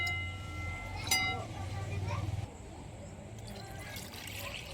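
Water poured over brinjals and potatoes being washed, splashing and trickling at close range for a couple of seconds before easing off into quieter dribbles and handling noise.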